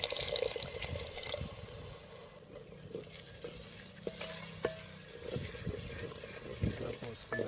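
Tamarind juice goes into a simmering Andhra-style fish curry (chepala pulusu), bringing a steady wet sizzle and bubbling with light stirring and clinks of a utensil against the pot throughout, at close range.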